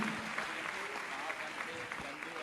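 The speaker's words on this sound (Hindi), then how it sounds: "ताली बजनी चाहिए इस परिवार के लिए।" An audience at a Jain religious discourse applauding to honour a family, broad continuous clapping from a crowd with faint background voices mixed in.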